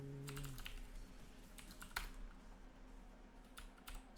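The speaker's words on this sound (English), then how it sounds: "I can't type tonight." Computer keyboard being typed on in short uneven runs, crisp close key clicks separated by brief pauses, no talking.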